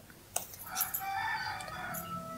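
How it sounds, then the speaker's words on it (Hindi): A rooster crows once, fairly close and clear, its call rising and holding for about a second before trailing off, with a faint bird chirp near the end. "मेरी तरफ मुर्गा बोल रहा है।"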